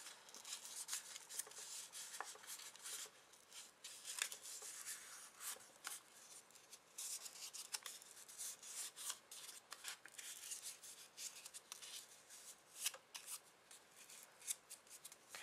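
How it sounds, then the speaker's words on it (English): Scored paper for a card is folded back and forth by hand, giving faint, continuous close-up crinkling and rubbing with small crisp creases throughout, quiet and without speech. "I'm just going to fold back and forth."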